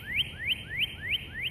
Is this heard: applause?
no